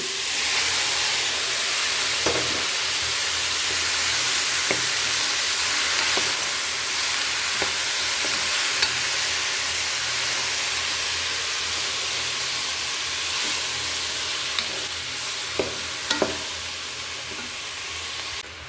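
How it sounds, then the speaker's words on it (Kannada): Tomatoes tipped into a hot pan with grated ginger for gorikayi gojju, giving a steady loud sizzle and hiss with occasional stirring clicks, no talking. "ಈಗ ಟೊಮೆಟೊ ಹಾಕ್ಕೊಳ್ಳೋಣ"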